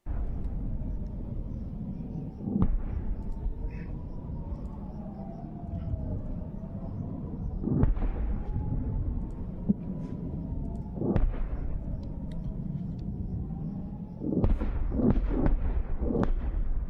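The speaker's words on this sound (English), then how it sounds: "those explosions are very crisp sounding" Several sharp, crisp explosion blasts from Ukraine war footage ring out at intervals over a steady low rumble, with a quick cluster of bangs near the end.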